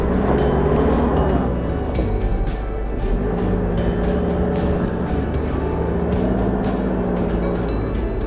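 A car's engine revs steadily as it tries to drive out of snow without snow chains, a loud, close, continuous drone with wavering pitch and no talk.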